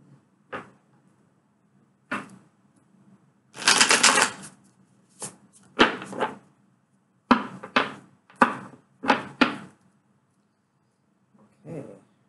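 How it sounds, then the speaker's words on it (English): Tarot cards being shuffled by hand, heard as a series of short papery riffles and taps with pauses between, one longer burst of flicking in the middle, close and fairly quiet with no talk. "Okay, one shuffle and we're good."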